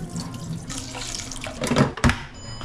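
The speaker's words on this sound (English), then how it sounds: "Washing some rice, short grain." Short grain rice being washed under running water in a kitchen sink, a steady close faucet flow with splashing and swishing, alone without speech.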